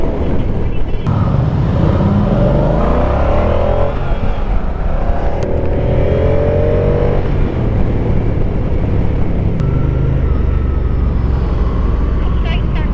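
A 2024 Moto Guzzi Stelvio motorcycle engine runs under light throttle at close range and stays steady throughout, with rising and falling tones as the revs change, wind and road noise underneath, and a rider talking over it.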